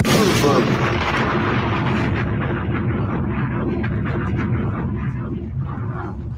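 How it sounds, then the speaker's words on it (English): Fireworks going off across a city, a continuous rumble of distant bangs and pops filling the background with no clear single blasts. "They still popping fireworks right now in my city."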